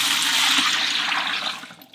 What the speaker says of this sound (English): Pour the water in, and then there'll be several bucket loads to go in.